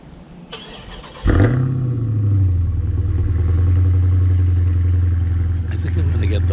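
A Dodge Challenger Widebody engine cranks and fires up, settling into a loud, rumbling idle with a deep open-exhaust burble close by, from the stock exhaust with its baffles open.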